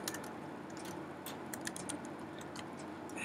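HTML code being typed on a computer keyboard, with quick, faint, irregular key clicks in short bursts, no talking.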